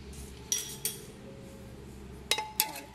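A metal spoon clinking against a pressure cooker pan, a few bright ringing taps in two small clusters over low background hiss.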